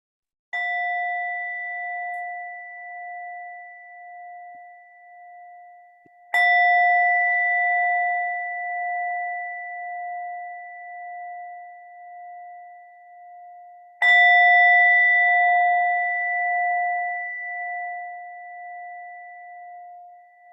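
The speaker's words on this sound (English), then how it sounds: "I'll invite the bell." A meditation bell is struck three times at a slow, even pace. Each clear ring swells and rings on for several seconds, layering over the last, with no voices in between.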